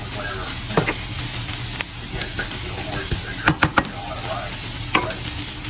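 Beef being stir-fried back into a pan for beef and broccoli with oyster sauce, with a continuous frying sizzle, scraping stirs, and a quick burst of sharp spatula knocks midway.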